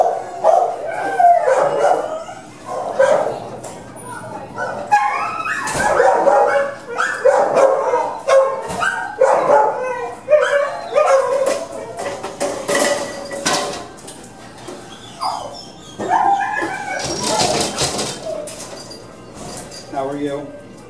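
Several dogs barking repeatedly inside an animal shelter kennel holding two male dogs, loud, near and echoing, with clanks of metal and occasional talk from a person.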